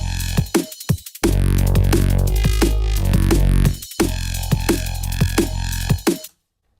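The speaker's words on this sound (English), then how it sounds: "today I'm just going to run through a tutorial of a bass patch in Serum." A drum and bass bass patch built in the Serum synth plays over a beat, heavy sustained bass notes sliding in pitch, with sharp drum hits and short gaps between phrases. The sound is loud and upfront.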